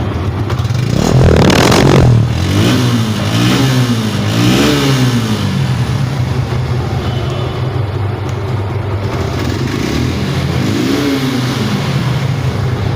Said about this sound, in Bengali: তো বাইকটার ইঞ্জিনের সাউন্ডটা শুনতে পারলেন